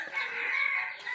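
A hen clucks in a short, loud burst close by in a village courtyard, heard alone.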